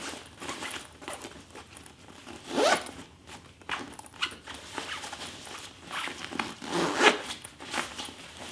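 A travel packing cube full of t-shirts is squeezed shut with its compression zipper: several close, rasping zip runs of varying length, with rustling fabric between pulls.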